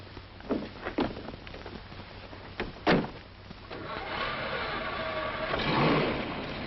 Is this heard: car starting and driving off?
yes